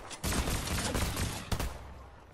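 Rapid gunfire bursts in the video game Fortnite, a dense, loud rattle of shots running nearly continuously with a sharp extra crack partway through, no talking over it.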